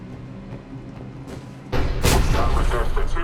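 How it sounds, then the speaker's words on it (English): Heavy cannon fire booms in Mass Effect Legendary Edition, a loud sudden blast breaking in midway and followed by rumbling, crackling detonations over a quieter low hum. "The cannon fire is clearing the way."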